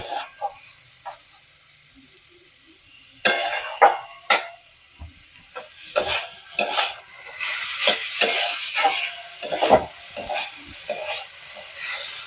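Water goes into a cooking pan of mixed winter vegetables, setting off loud bursts of hissing sizzle and clattering stirring that come in uneven surges, with no voices.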